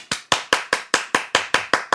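A single pair of hands claps ten times in an even, brisk rhythm, each clap crisp, close and alone with nothing else heard.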